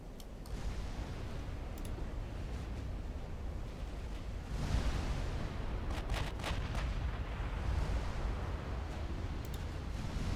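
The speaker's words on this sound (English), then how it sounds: "More torpedo hits and shell hits." Torpedo and shell hits land in the naval warship game Ultimate Admiral Dreadnoughts as rolling, rumbling booms and dull explosions, fairly faint and distant, blending into a constant low roar.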